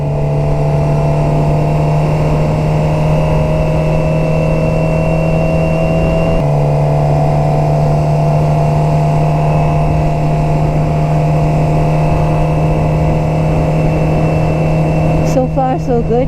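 A Suzuki GSX-R motorcycle engine drones loudly and steadily while accelerating, with a single brief dip in pitch partway through as it shifts up a gear.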